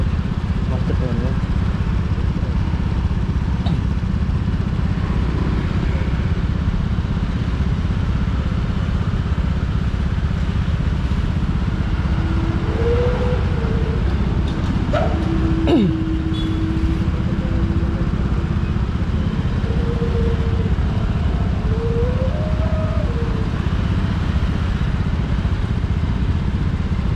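Motorcycle engines idle and putter in a morning traffic jam in Bali, a steady low rumble throughout with occasional horn-like tones, while a person talks over it.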